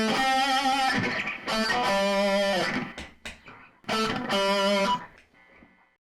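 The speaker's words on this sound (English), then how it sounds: "For a little bit more distortion, we'll add a distortion pedal." Electric guitar through a distortion pedal rings out in loud, sustained chords of about a second each, separated by short muted gaps and a scratchy pick stroke, with the final chord fading out.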